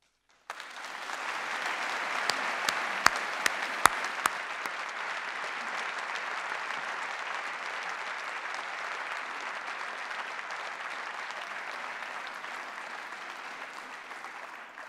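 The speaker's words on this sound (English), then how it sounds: "Please give a warm applause for Ms. Selihai Kalaf Allah and Mr. Hosep Asadur." An audience applauds steadily for two guests coming onto the stage at a university Dies Natalis ceremony, a dense, even wash of clapping that starts abruptly and holds for the whole stretch, with a few sharper claps standing out early on.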